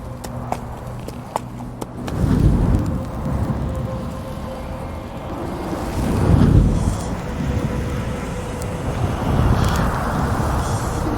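Out at sea, wind buffets the microphone in rumbling gusts that swell and ease in waves, loud and close, with a rushing wash of sea noise underneath.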